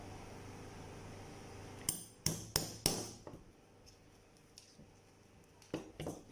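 2.5 mm leather punch struck through leather for a baby sandal: four sharp, loud hammer taps in quick succession, then a quieter gap and two more taps, over faint background hum.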